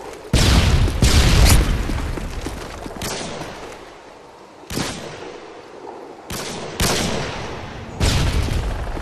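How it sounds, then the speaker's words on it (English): Blasts and gunfire from a round of Call of Duty: Modern Warfare 2 Search and Destroy on the Bailout map, with a stun grenade going off amid several loud, sharp booming bursts spread across the stretch. "Tossing stun grenade!"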